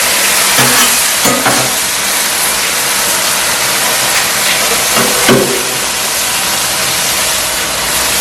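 Loud, steady sizzling of a ham steak frying on a Blackstone griddle, a dense continuous hiss with a few brief scraping stirs.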